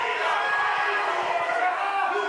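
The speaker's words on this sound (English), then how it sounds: "This crowd chanting, "Please don't tap."" A wrestling crowd at an indoor independent show chants steadily in a dense, roaring wash of voices that fills the whole moment without a break.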